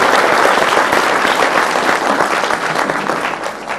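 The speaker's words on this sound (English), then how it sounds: "please give yourselves a round of applause for creating time to be here" Audience applause fills a leadership forum on manufacturing in Kenya, steady and loud throughout with dense clapping from a large crowd, fading slightly toward the end.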